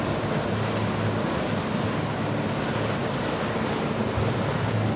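Fast-flowing Rocky River in Tasmania rushing over rocks, a loud, steady broadband roar of churning water close by with no break in rhythm and no voices.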